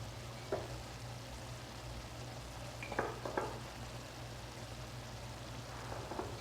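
Onions and spices fry in a pan with a faint, steady sizzle, broken by a few soft scraping taps from stirring.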